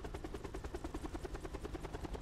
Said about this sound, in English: Really hate just sitting in the helicopter when it's not moving.